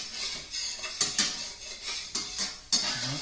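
Heavy cream pepper sauce being mixed in a pan off the heat for a T-bone steak, with repeated scraping and clinking of a utensil against the pan, several sharper knocks standing out near and moderately loud.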